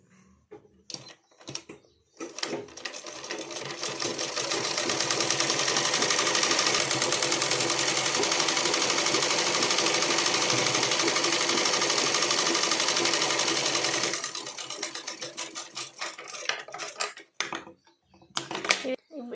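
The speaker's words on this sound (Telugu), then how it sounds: "ఇప్పుడు ఇట్లా లోపలికి మడిచి కుట్టేయాలి" A sewing machine stitches a folded-in blouse edge in a steady whirring run of about twelve seconds, with scattered handling clicks and someone talking before and after it.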